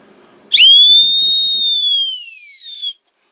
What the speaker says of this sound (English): this is like a little cheap Cracker Jack's box whistle